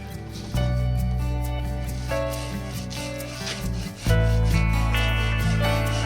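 A Fiskars hand saw rasps through a tree trunk outdoors in uneven scraping strokes, close and fairly loud, with background music playing throughout.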